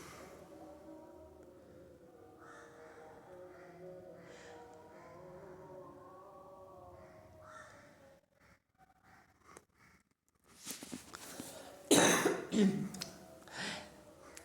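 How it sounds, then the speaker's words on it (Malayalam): A person with a slight throat problem coughs in several sharp, loud bursts near the end, after a stretch of quiet, murmuring ambience at the Chenkal Siva Temple. "ഇടയ്ക്ക് വീഡിയോയ്ക്ക് ഇടയ്ക്ക് ഒരു ചുമ വന്നിട്ടുണ്ട്."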